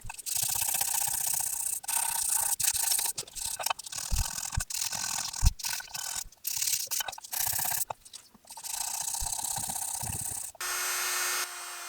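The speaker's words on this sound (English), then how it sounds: "Sanding the blade, I started out with a 340 grit and worked my way up to a" Continuous scratchy rubbing of sandpaper on a vintage switchblade knife blade, back-and-forth strokes with brief pauses, close and fairly loud with no talking.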